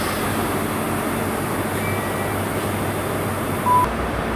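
A Class 43 high-speed train pulls away from Exeter St Davids station, a low, steady rumble and hum running throughout, with a brief high tone near the end.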